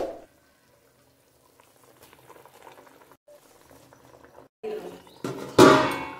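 A pot of thin fish broth with potatoes and water, for a tilapia curry with greens, bubbles on the stove in soft, faint patches, then rises into louder sputtering bursts and a sharp clang toward the end.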